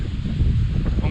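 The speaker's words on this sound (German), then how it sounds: "kämpfen mega gegen den Wind" Strong headwind buffets the microphone while cycling along a flat scenic road, a steady low roaring rumble that fills the moment.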